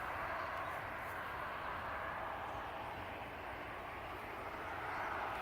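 Steady, continuous engine drone of a Dynaflite Bird of Time RC powered glider running at full throttle, loud and unbroken for several seconds.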